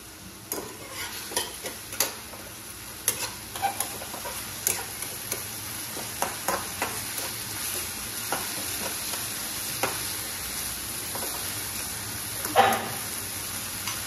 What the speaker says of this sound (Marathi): बटाटा शिजेपर्यंत थोडा वेळ वाट बघा